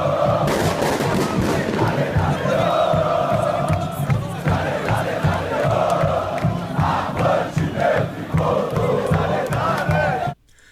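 A channel intro jingle with a roaring football crowd of São Paulo fans: loud, continuous chanting and cheering with booming accents throughout, cutting off abruptly at the end.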